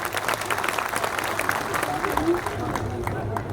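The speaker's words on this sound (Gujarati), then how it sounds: "એકવાર જોરદાર આ સંતો માટે તાળીઓ પાડી" An audience at a Gujarati community gathering honoring saints claps loudly and steadily, a dense wash of applause from a crowd that carries through the whole stretch with faint voices mixed in.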